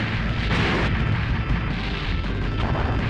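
Bomb explosion in a NeoGeo arcade game played from an Evercade cartridge, a loud continuous booming rumble with overlapping blasts and crackle sustained throughout, no voices over it.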